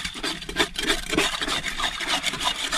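Close, continuous rough scraping and rubbing as the hull of a small boat is cleaned, with quick back-and-forth strokes in an uneven rasping rhythm.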